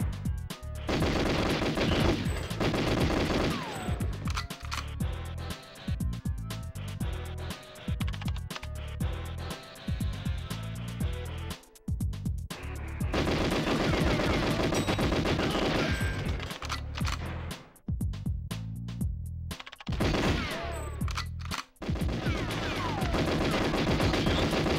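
Sustained automatic gunfire from the GoldenEye video game rattles in rapid, dense bursts for over twenty seconds, with brief pauses between volleys and no talking.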